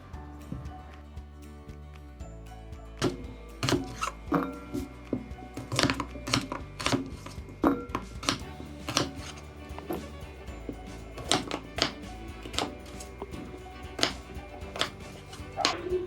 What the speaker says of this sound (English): I'm going to cut these into wedges